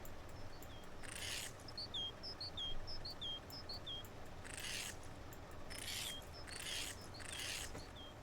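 Short repeated bird chirps in a snowy night woods in the video game My Winter Car, sounding in small clusters over a steady low ambient hum, with a few broader noise bursts between them.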